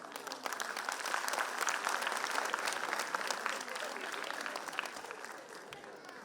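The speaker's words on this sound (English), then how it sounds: "Parents, please clap." Parents clap together at a school annual function, a steady, dense patter of many hands filling a hall at moderate loudness, holding even throughout with no voices rising above it.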